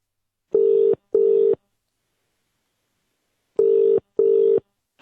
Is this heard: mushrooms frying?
no